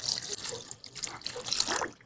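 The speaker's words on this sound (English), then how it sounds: "Cover pork with water" Water runs from a tap into a pot of pork for stock, a steady splashing, gurgling stream with small surges, close and alone.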